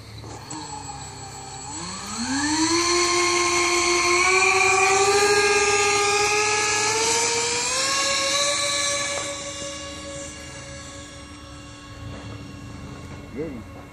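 A Windrider Boeing 777 RC plane spools up for takeoff: an electric motor's whine climbs sharply in pitch, holds as a loud, steady drone for several seconds, then fades away into the distance.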